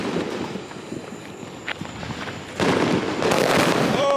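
A Neon Blast fireworks finale cake of 30 rounds set off at a Fourth of July show, starting with scattered pops and crackles, then breaking into a loud, sustained rush of bursts near the end.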